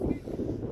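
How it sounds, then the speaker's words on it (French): Wind buffets a microphone on an open mountain summit, a steady low roaring rumble for under a second, loud and close. "Peut-être que le vent il arrêtera de me décoiffer"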